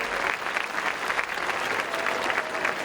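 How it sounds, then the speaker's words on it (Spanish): Loud, sustained applause from a crowd at a festival presentation of the pregonera and zagalas for San Mateo, dense clapping with rhythmic surges throughout, no talk over it. "le vamos a dedicar este aplauso fortísimo"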